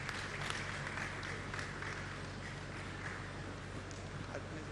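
An audience at a religious gathering in India claps in a continuous, even round of applause, faint and somewhat distant, with a low hum underneath.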